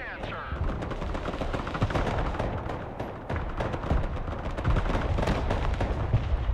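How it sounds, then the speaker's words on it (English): Rocket artillery and gunfire in the video game Broken Arrow, a dense continuous barrage of rapid shots and blasts running throughout at steady loudness. "Rocket artillery at your command, sir."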